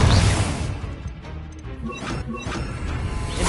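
Bombarda spell explosions in the Hogwarts Legacy video game: a heavy crashing blast at the start, followed by several sharper impacts and whooshes of lighter spell hits.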